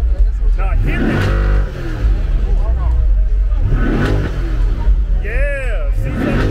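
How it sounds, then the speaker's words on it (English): A Trackhawk with a freshly done exhaust revs loudly at a car show, its engine roaring in repeated surges over a crowd chattering and shouting nearby. "You know how to hit that gas."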